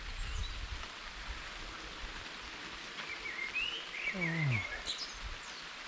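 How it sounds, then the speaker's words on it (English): Steady rain falls outdoors during a walk, a constant soft hiss throughout with a bird chirping faintly partway through. "Feeling the rain on my skin."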